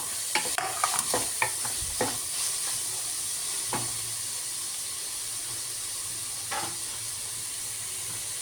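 Bitter gourd already sautéed in oil with curry leaves sizzles steadily in a pan while a spoon stirs it, with sharp scraping clicks clustered early and a few later, continuous frying hiss throughout.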